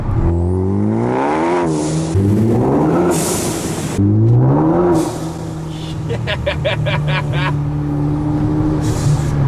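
A Ford Focus RS car engine revs up and down several times in strong, rising and falling sweeps, then settles into a steady idle with brief crackling bursts.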